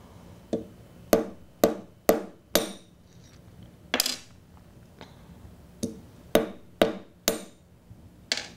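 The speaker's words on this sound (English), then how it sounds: "it cuts quite simply with just a little bit of pressure from the hammer." A hammer taps stone while cutting and cracking it, about a dozen sharp, loud, close strikes in an irregular rhythm with brief pauses between them.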